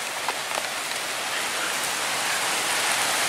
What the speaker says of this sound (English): we got rained upon